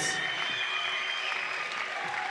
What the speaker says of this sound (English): Big round of applause to both fighters.